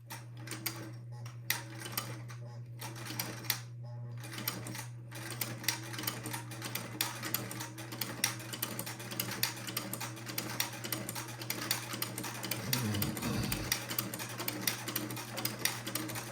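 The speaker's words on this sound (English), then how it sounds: "I will begin to sew my buttonhole." A sewing machine fitted with an old-fashioned buttonhole attachment stitches a buttonhole on a white boys' suit. A steady low motor hum runs under rapid, even needle clicks, close and fairly quiet, and swells briefly near the end.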